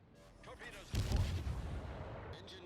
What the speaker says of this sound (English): I'll just shoot him with my guns and hope my torpedoes reach him